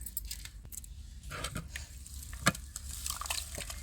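Tomato, tamarind, chilli powder and rock salt are squished and mixed together by hand in a bowl, wet squelching and scraping in irregular bursts, close and fairly quiet, no talking.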